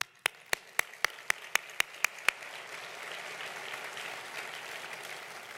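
Audience applause during a speech by the director of ICE, opening with about nine crisp, evenly spaced claps nearby. These give way to a quieter, more distant spread of clapping across the room.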